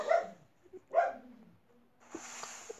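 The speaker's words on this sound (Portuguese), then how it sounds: "Cachorro da desgraça, cala a boca." A dog gives two sharp, close barks about a second apart, then a quieter, higher whine or whimper with a few faint clicks afterward.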